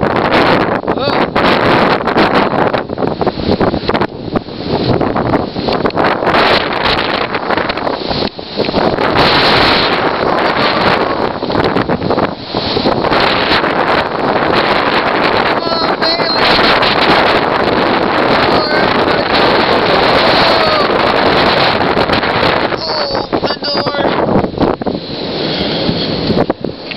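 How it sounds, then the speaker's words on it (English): Strong outdoor wind in Michigan roaring over the microphone without pause, a loud, dense, buffeting rush, with someone talking faintly beneath it. "It's a little windy out there"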